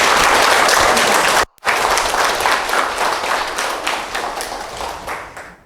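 A church audience applauds loudly and steadily at a confirmation class as a priest is welcomed, broken by a brief cutout, then the dense clapping continues and slowly fades.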